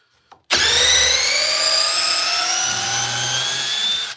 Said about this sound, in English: little tiny 12-volt install drivers burying 10-inch timber locks like it's nothing.